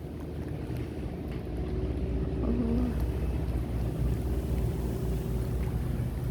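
A convoy of four long-tail boats motors along on water, a steady continuous engine drone with water and wind noise running throughout, fairly loud and close, with no talking.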